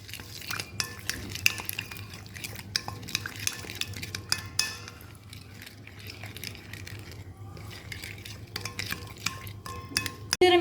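Spice powder and two tablespoons of ginger garlic paste are mixed by hand in a bowl, producing soft scraping and stirring with repeated clinks of a spoon against the dish, close and fairly quiet over a low hum.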